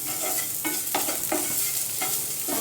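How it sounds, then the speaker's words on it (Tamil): Podi idli with coriander leaves being stirred in a pan, with a loud close sizzle and repeated scraping strokes of a spoon against the pan, several in quick succession, no talk. "கடைசியாக கொஞ்சமாக மல்லி இலை போட்டு ஒரு மிக்ஸ் பண்ணி விட்டுட்டு"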